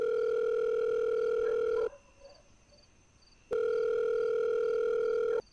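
A steady telephone dial tone hums loudly from a handset, cuts off for about two seconds of near-silence with faint beeps, then resumes just as loud and constant.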